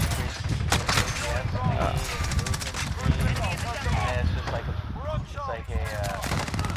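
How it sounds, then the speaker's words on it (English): M91 light machine gun firing in a first-person shooter match on the Shipment map, rapid repeated shots spread through the whole stretch with continuous battle noise, while voices talk over it. "An LMG that shoots like a AR."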